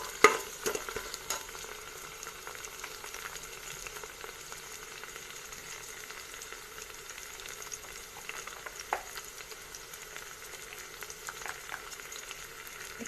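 Onions and chopped green chilies fry in oil for mutton curry, a faint, even crackling sizzle with occasional stirring taps, no voices.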